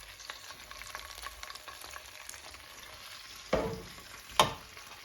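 Pieces of tandoori chicken fry in oil and are turned over. A quiet, steady sizzle runs throughout, with two sharp clatters near the end as the pieces are flipped.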